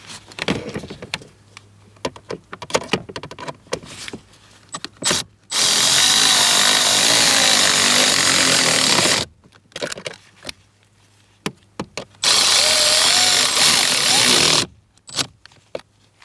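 A power tool drives screws into the plastic housing of a recirculation HVAC blend door actuator on a 2008–2016 Chrysler. Two loud, steady whirring runs of several seconds each are broken by a pause, with scattered clicks and handling noises around them.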